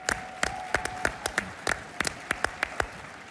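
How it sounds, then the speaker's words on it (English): Applause from a crowd at a political conference, with distinct sharp claps popping out above a steady background of clapping hands, lasting a few seconds with no talk over it. "Give yourselves a round of applause."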